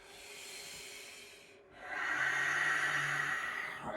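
Deep breathing during a yoga pose, heard close and soft: one long airy exhale, a brief pause, then a stronger hissing breath. No one speaks.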